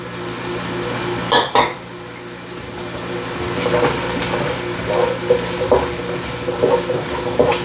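Fresh garlic and poultry seasoning toast in a pot for chicken and dumplings, sizzling softly and steadily up close, broken by a few sharp scraping stirs and clinks.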